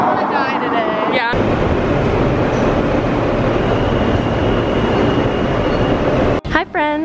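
A New York City subway train rides along with a loud, continuous rumbling roar and rattle that fills the clip, broken by brief voices at the start and end.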